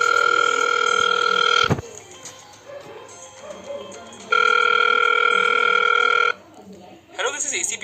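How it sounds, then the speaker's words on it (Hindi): A telephone ring tone sounds in two long steady bursts, a loud electronic purr with a quiet gap between them, as a call is placed on a phone, followed by faint background noise and a brief voice at the end. "मैं इनको फोन लगा रहा हूँ।"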